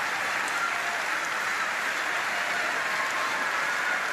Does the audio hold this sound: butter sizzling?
no